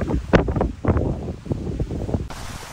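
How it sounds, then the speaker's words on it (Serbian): Strong wind on the Croatian coast near Senj buffets the microphone in gusty, rumbling bursts, with a steady windy roar throughout. "Baš jak vetar dosta."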